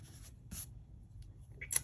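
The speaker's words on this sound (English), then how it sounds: "I just thought I would show you how well they erase." Pencil eraser rubbing old writing off paper, with a few short, soft scratchy strokes separated by quiet pauses, faint and close.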